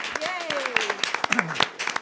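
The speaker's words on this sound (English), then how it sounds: "Let's give everyone a big round of applause." A crowd at a town council meeting claps for newly appointed Youth Commission members, a scattered run of claps with a couple of rising cheers or whoops mixed in over a short burst.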